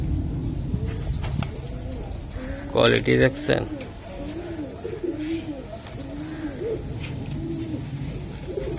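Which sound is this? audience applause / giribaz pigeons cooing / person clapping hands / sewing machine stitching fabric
giribaz pigeons cooing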